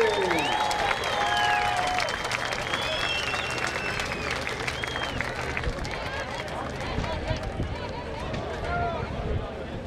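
Crowd applause for the 2.5-litre class champion after a hydroplane racing final at Valleyfield, a dense steady wash of clapping with busy background noise and some talk mixed in throughout.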